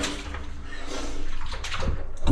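Water sloshes and splashes in a flooded mine passage as someone moves through it, a brief close churning that swells toward the end.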